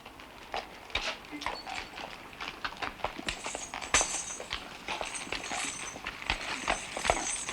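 Horse hooves clip-clop at a steady walking pace on a hard Melbourne street in 1962, sharp clear strikes with faint talk and background noise around them.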